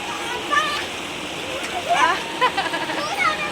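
A village river in Chhattisgarh flows with a steady rushing, splashing wash, close and continuous, while brief chirps rise over it.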